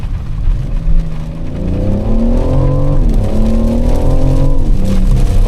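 A BMW M760Li with its V12 engine accelerates hard in sport mode on a wet road, its loud engine note climbing steadily in pitch with a brief dip at a gear change partway through.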